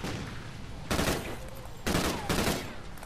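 Sniper rifle shots in an online shooter video game, three loud sharp cracks spaced about a second apart, each with a short ringing tail, heard up close with no talk.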